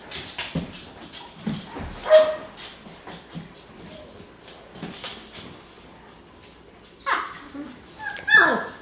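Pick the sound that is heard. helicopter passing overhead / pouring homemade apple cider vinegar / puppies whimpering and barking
puppies whimpering and barking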